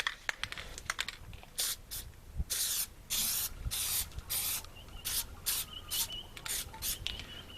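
Light dust coat of spray paint applied to a car badge on a Corolla, heard as short hissing bursts from the can in a stop-start rhythm with brief pauses between passes, close and fairly quiet.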